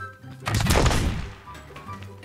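A single sharp gunshot in the building game Scrap Mechanic: one loud, close burst with a short rumbling tail that fades over about a second, with no one talking.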